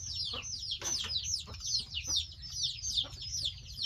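Chickens cluck repeatedly in a rural garden setting, a busy run of overlapping clucks and short calls at moderate distance over a low background rumble, with no talk.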